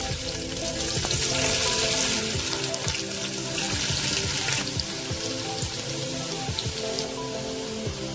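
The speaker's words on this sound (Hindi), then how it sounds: "इसमें मैं सबसे पहले प्याज फ्राई करूंगी।" Sliced onions fry in a cup of hot oil in a heated pot, a loud, dense sizzle that crackles without a break for the whole stretch.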